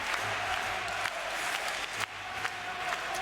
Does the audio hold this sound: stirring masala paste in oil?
no